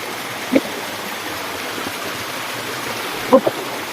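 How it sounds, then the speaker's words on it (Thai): Steady broadband rush of a small waterfall along a forest stream, continuous and even, with a couple of brief knocks or splashes standing out. "ก็จะเป็นน้ำตกประมาณนี้นะครับน้ำตกเล็ก"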